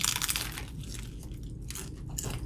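A crunchy Burger King taco shell crackles as it is bitten and chewed close up, with a few crisp crunches standing out over quieter chewing and no talk.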